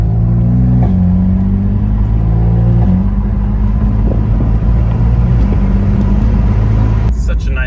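Engine of a 2015 BMW M4 with the S55 motor runs loud and steady at close range, its deep drone shifting pitch in a few revving swells before dropping near the end.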